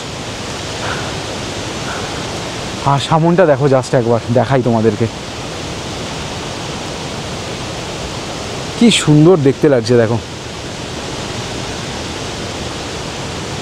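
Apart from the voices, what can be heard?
flowing river water in Rongli, East Sikkim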